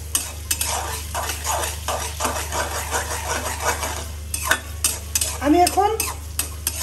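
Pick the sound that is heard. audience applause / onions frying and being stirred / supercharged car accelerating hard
onions frying and being stirred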